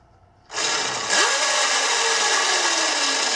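The motor of a Razor E200 electric scooter kicks on abruptly and spins the wheel with a loud, steady mechanical whine. A brief tone rises as it gets up to speed, then it settles into a constant drone.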